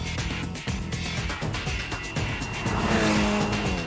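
A Ferrari California T with a turbocharged engine accelerating hard, a loud, close, continuous engine roar that climbs through the revs, with no voices over it.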